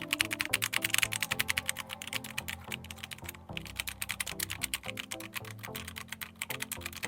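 Rapid, steady keystrokes clatter on a Nubwo x802 mini RGB gaming keyboard, close and loud, with an even rhythm of clicks throughout and no talking.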